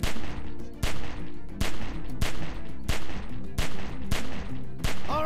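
Gunfire in The Walking Dead game, a rapid string of loud, sharp shots, roughly a dozen in irregular bursts, each cracking out over a low steady background.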